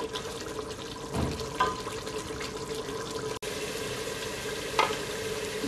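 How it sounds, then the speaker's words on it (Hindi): Mutton browning (bhuna) in a pot with a little oil, giving a continuous close sizzle. Occasional stirring scrapes cut through the sizzle, with no talking. "और गोश्त की हम अच्छे से भुनाई करेंगे"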